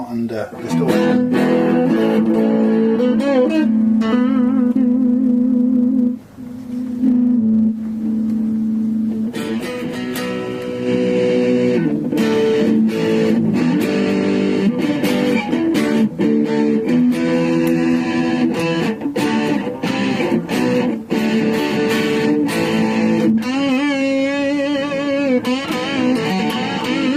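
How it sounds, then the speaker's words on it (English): An old AristoCat Columbus SG-style electric guitar played through distortion, with loud sustained chords and riffs that run almost continuously and pause briefly once. "Doesn't break up very well under distortion."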